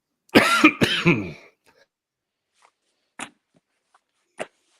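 A few coughs up close, a burst of two or three at the start, then two short isolated coughs later with quiet between.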